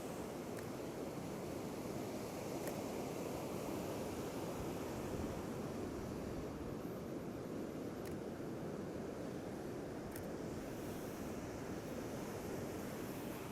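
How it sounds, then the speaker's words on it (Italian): Ocean waves break steadily against a rocky coast, a continuous loud broadband wash of surf with occasional sharper splashes, close and unbroken with no voices. "con questo accumulo di onde direi che ci siamo decisamente"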